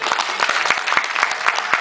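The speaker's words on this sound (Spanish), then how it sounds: "Tenemos un fuerte aplauso, por favor" Audience at a Kuoshu martial arts and self-defense workshop exhibition breaks into lively applause, quick dense clapping from a sizeable crowd with sharp individual claps standing out.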